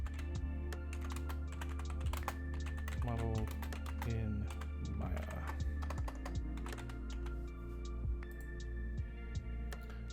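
Rapid clicking of computer keys as someone types a project description for a 3D dining chair model, steady irregular taps throughout with a voice speaking over parts of it.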